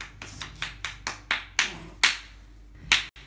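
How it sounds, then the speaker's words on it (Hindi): Slow, separate hand claps ring out one by one, sharp and close, in a casual at-home eating challenge among friends, eight or so beats spaced unevenly with a pause before a final clap. "तालियां बजाओ"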